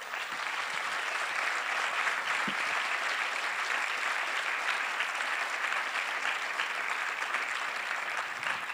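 A conference audience at the Cité Miroir, gathered for a Neuromania talk, gives a long, even round of applause that stays steady and moderately loud throughout.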